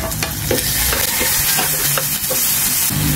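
Garlic, onion and tomato sizzle and fry in a pan with ginger while a utensil stirs and scrapes, giving a continuous loud hiss close by with occasional clinks.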